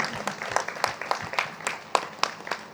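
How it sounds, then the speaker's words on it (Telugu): A group at a meditation gathering applauds loudly, with sharp hand claps coming in a fairly regular rhythm, close and distinct. "మనం గట్టిగా క్లాప్స్ చేసుకుందాం."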